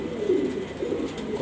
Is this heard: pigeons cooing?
yes